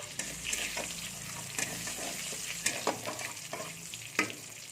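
Dry red chilli and panch phoron spices frying in hot oil give a steady close sizzle with frequent crackles and pops and a few sharper spits, no voices.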